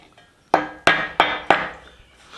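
A blacksmith's hammer strikes a scrap metal piece at an awkward angle, four sharp, ringing blows in quick succession, loud and close with no voice.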